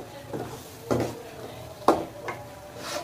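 Boneless chicken with black pepper being stirred in a handi, a few close scraping and clinking strokes of a spoon against the pot over a faint background sizzle.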